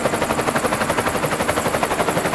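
A helicopter in flight over Niagara Falls: a loud, steady rotor drone with rapid rhythmic blade chop pulsing throughout, close and continuous with no voices.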